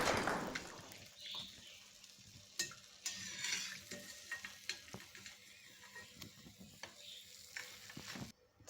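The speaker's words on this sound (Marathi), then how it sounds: "मिरचीचे भजे खमंग तळले गेलेले आहेत" Chilli bhajiya (mirchi bhaje) fry in hot oil with a steady soft sizzle, broken by faint stirring and ladle clinks from a pot as they are lifted out; no talking.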